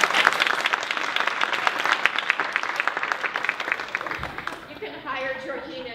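An audience at a women's leadership event applauds to welcome a speaker. The dense, steady clapping fades toward the end, and a voice begins talking as it dies away.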